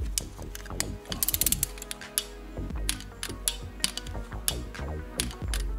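A ratchet tightening the oil cover bolts on a Yamaha YZ450F dirt bike, with close, quick bursts of clicking pawl sounds and short pauses between strokes.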